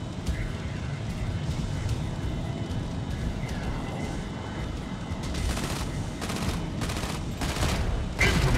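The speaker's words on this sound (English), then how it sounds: "Incoming fire." Rapid bursts of weapon fire and explosions in the Mech Arena robot combat game, dense rumbling battle noise with sharper gunshot bursts growing toward the end, under game sound effects.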